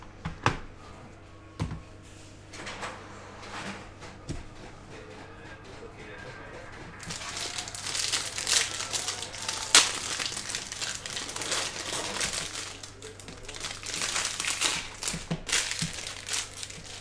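Baseball trading card jumbo packs being torn open and their foil wrappers crinkled, with a steady loud rustling and crumpling that starts after several seconds of quieter handling, close by.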